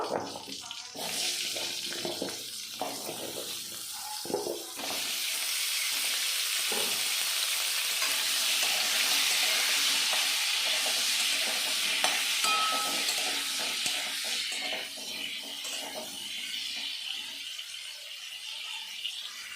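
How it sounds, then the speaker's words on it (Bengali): Potatoes frying in mustard oil in a pan for a pabda fish curry with flat beans, a close, continuous sizzle with stirring and scraping that grows fuller partway through, no talking. "এবার আলুগুলো ভেজে নেব"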